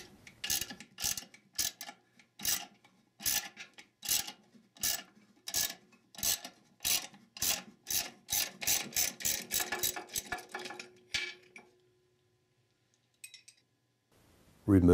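A wrench turning the threaded rod of a spring compressor on a Ford E4OD/4R100 transmission, heard as a regular series of close ratcheting clicks that quicken toward the end before stopping.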